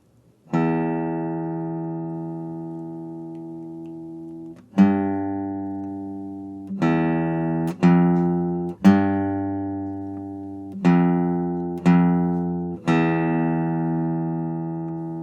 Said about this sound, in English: Sounds cool playing these low notes, right?